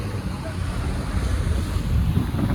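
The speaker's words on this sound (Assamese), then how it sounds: "বহুত ঠাণ্ডা লাগিছে ধুনীয়া বতাহ মাৰি আছে ঠাণ্ডা বতাহ" Cold sea wind buffeting the microphone on a boat near Thailand's Phi Phi Islands, a steady, loud roar with rolling low rumble and surf-like wash throughout, no clear voices over it.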